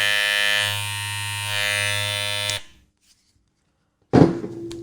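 A barber hair clipper runs with a loud, steady, high-pitched buzz for about two and a half seconds, then cuts off into silence before a brief burst of handling noise.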